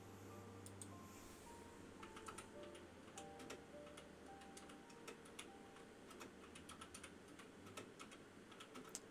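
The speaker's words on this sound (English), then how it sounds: "Just typing one thing." Computer keyboard typing during a Xenoblade Chronicles gaming session: a steady stream of quick, light key clicks over a constant low hum, with no voices.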